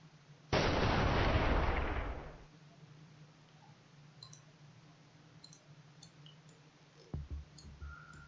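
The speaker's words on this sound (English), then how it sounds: "we're firing SM1s at the nails" An SM-1 missile launch in the naval combat game Command: Modern Operations: a loud roaring blast for about two seconds, followed by quiet hum with faint interface beeps and a brief second thump.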